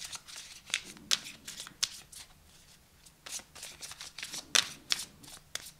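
Tarot cards being shuffled in quick bursts of crisp riffling and slapping, close up, with short pauses between shuffles.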